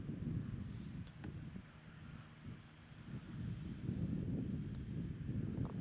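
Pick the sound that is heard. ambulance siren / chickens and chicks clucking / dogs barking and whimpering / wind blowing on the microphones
wind blowing on the microphones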